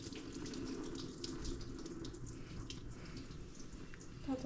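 Antifreeze pours steadily out of a 2013 Dodge Durango's opened thermostat housing, a continuous close splashing trickle onto the ground with no talk over it.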